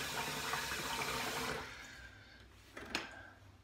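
Water pours loudly from a tap to rinse a razor after shaving, a steady splashing stream that fades after a second or two into quieter drips and small clinks.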